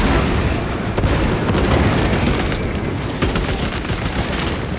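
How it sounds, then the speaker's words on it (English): A frag grenade blast in Warhammer 40k Space Marine 2 lands amid heavy, continuous battle noise, with booming detonations and rapid gunfire crackle packed together, loud and dense throughout. "Deploy frag grenade!"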